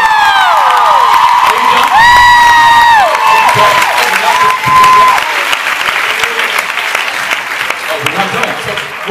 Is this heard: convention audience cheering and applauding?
yes